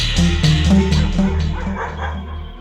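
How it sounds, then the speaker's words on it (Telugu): Several dogs barking in quick succession, loud and close with overlapping woofs and yips in a rapid irregular rhythm, in a Telugu film scene. "ఇటు కుక్కలు ఒకదానికోటి పోటీ పడి అడుగుతున్నాయి"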